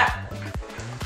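A chihuahua gives a quick run of sharp, close barks, four or five in about a second, over a low growl that carries between them.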